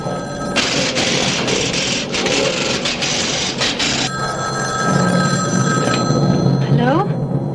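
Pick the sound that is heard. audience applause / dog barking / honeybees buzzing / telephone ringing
telephone ringing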